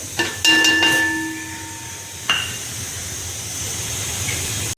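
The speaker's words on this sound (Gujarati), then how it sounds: "એને મસ્ત રીતે હલાવીએ મસ્ત રીતે આ રીતે હલાવવાનું છે" Wheat flour is stirred in hot ghee in a pan for the Gujarati sweet sukhdi, giving a steady close sizzle and hiss with occasional scraping, while a few brief tones ring out early on.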